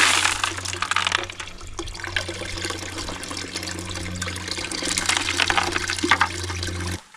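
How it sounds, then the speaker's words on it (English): Dirty wastewater from a homestead fish farm being dumped out, a steady rushing pour of water lasting several seconds close by, stopping abruptly at the end, with no talking. "Let's dump as much of this water here as we can."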